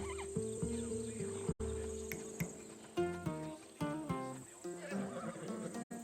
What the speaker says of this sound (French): Ce cheval vient de Thessalie